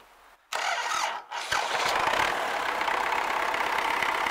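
An MTZ-80 tractor diesel engine with a knocking fault is cranked by the starter on a large battery. It catches after a brief stumble and settles into a loud, close, steady clattering idle, with no voices.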